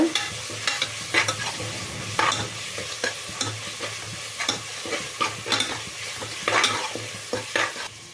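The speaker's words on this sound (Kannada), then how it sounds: "ಸ್ವಲ್ಪ ಹಸಿ ವಾಸನೆ ಹೋಗೋವರೆಗೂ ಹುರಿಬೇಕು ಶುಂಠಿ ಬೆಳ್ಳುಳ್ಳಿ ಪೇಸ್ಟ್" Ginger garlic paste frying in a pan for mutton pepper fry, a soft continuous sizzle broken by repeated scraping stirs of a spatula, close by with no talking.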